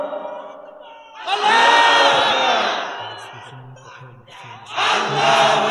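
A crowd at an Islamic sermon (waz) shouts a loud collective takbir chant, a surging roar followed by a lower murmur and a second loud burst of voices.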